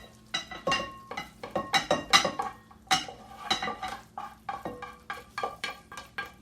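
A utensil stirs and blends cooked zucchini and squash in a pan, repeated scraping clinks against the metal in an uneven rhythm, close and fairly quiet, with a few words spoken briefly.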